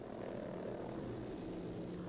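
Pacific-theater fighter plane in the video game Battlefield V, a steady propeller engine drone holding at even, close loudness throughout with no talking over it.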